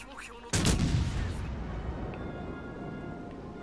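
A naval gun volley fires from a warship in a naval combat video game, one sudden heavy boom that rumbles and fades over several seconds.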